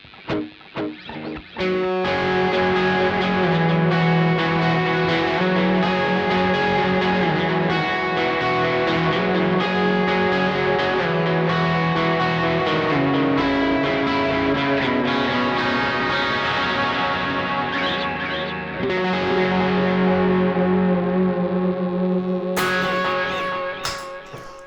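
Electric guitar played through a Cosmos Echo pedal on a pedalboard, sustained distorted chords and notes washed in echo and modulation, loud and continuous for about twenty seconds with no talking.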